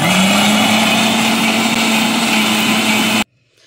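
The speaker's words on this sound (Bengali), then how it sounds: "এখন আদাটাও ব্লেন্ডার করে ফেললাম" A kitchen blender grinds garlic and ginger with a loud, steady motor whine that holds evenly for about three seconds, then cuts off abruptly to near silence.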